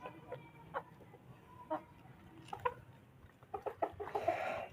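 Hens and a rooster cluck and call in a small backyard poultry setup, scattered soft clucks building to a louder, busier burst at the end, fairly faint with outdoor background.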